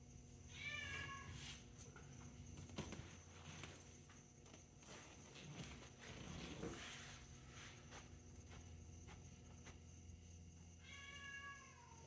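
A cat meows twice in a garage where a 1963 Buick LeSabre convertible is being worked on, with clear close meows at the start and near the end and faint shuffling sounds between.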